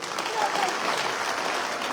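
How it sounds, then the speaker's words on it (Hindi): A crowd applauding at an outdoor victory gathering after an election win in Sursura, with continuous, fairly distant clapping and faint crowd murmur underneath. "ताली बजाओ"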